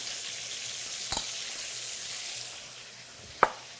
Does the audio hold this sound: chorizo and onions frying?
yes